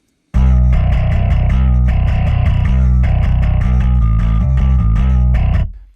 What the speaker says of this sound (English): We have an overdrive channel.